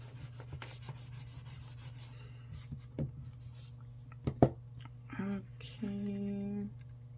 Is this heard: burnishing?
yes